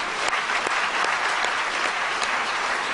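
A church congregation at a healing retreat in Lyon claps together in steady, dense applause, moderately loud and continuous for a few seconds.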